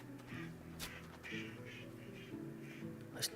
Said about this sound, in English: those ducks are annoying the hell out of me